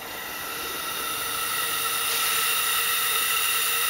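Compressed air hisses steadily from a leaking factory Evo 8 diverter valve under about 21 psi from a low-flow compressor, a close, continuous broadband rush that swells slightly louder over a few seconds.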